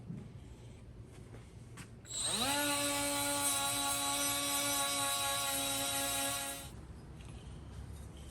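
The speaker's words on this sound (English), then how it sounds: "I'm gonna take my fancy Milwaukee deal and brush them up" A Milwaukee cordless power tool wire-brushes transmission parts during a TH400 rebuild, spinning up sharply into a steady, loud whine with a bright metallic hiss that holds for about four seconds, then cuts off.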